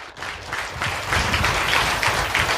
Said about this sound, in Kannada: ದೊಡ್ಡ ಚಪ್ಪಾಳೆ ಕೊಟ್ಟು ದೇವರಿಗೆ ಮಹಿಮೆ ಸಲ್ಲಿಸೋಣ